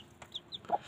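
A hen clucks softly in short bursts beside her two-day-old chicks, with faint high chick peeps between the clucks, close and quiet.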